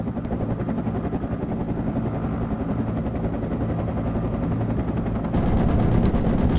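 Sustained, dense gunfire from the military shooter Project Reality, a continuous loud clatter of automatic weapons that grows slightly louder near the end, with a steady engine-like rumble underneath.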